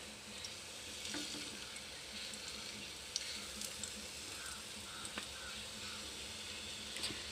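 Pieces of pointed gourd (potol) sizzle and fry steadily in hot oil in a pan, a continuous crackling hiss with occasional sharper pops, moderately loud and close, with no talking.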